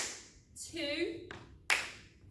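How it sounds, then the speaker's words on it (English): A single sharp hand clap lands between spoken counting in a home PE drill, part of a throw, clap and catch exercise with a ball, followed by another crisp slap of the catch. "So if I'm using my right hand will throw up, clap and catch."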